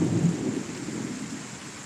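Thunder rumbles through a morning thunderstorm in Kansas, a loud low roll that peaks early and then settles into a steady, fading grumble with rain behind it. No voices.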